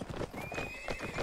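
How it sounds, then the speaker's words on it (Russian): Armored Sarranid horses in the video game Mount & Blade Warband, rapid clip-clop hoofbeats from several galloping horses with a whinny, close and busy, with no talk. "Красивые саранинские лошади, бронированные."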